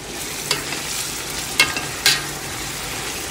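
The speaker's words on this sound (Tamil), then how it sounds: "இந்த ஆனியன் வந்து நல்லா கோல்டன் ப்ரௌன் வர வரைக்கும் நம்ம வெங்காயம்" Onions fry in a large cook pot for biryani, a dense continuous sizzle with several sharp stirring scrapes and knocks of the ladle against the pot, close and steady.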